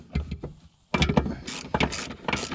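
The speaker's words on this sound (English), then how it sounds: "I'm gonna go ahead and unscrew those two bolts and then get rid of the front seat as well." A hand tool loosens the seat bolts inside a Delica L400 van, making quick ratcheting clicks in short bursts, close and moderately loud, after a brief pause.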